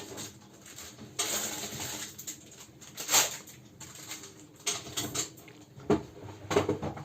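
Knife cutting a slice of ham quiche lorraine, with several separate crisp crunches and scrapes against the dish, close and fairly loud, with no talk.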